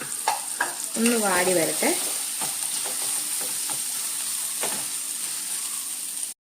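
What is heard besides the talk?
sliced plantain frying in ghee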